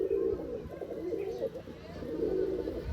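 Giribaz and racer pigeons on a Rajshahi farm give a steady, close, low cooing that continues throughout, swelling slightly at the start and end.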